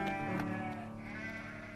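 Sheep bleating in a children's Bible story scene set in a pastoral field, a continuous harmonic bleat at steady loudness with no talk over it.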